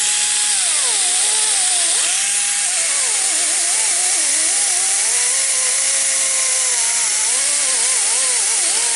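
A pneumatic air grinder works an orange stripe off a boat hull, a loud, continuous high whine that dips and rises in pitch as the load changes, close and alone for the whole stretch.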